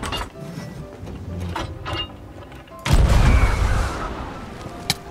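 A ship's cannon fires in the pirate game Sea of Thieves: a heavy low boom bursts out partway through and rumbles on for about a second, over earlier clanking and mechanical sounds.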